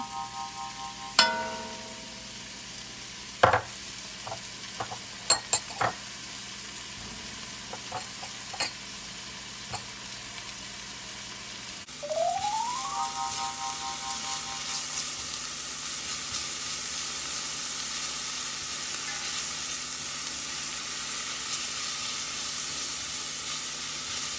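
Garlic and onion sizzle in a pan over medium heat for spaghetti sauce, a steady close frying hiss that grows louder and fuller partway through, with a few sharp clinks of utensils early on.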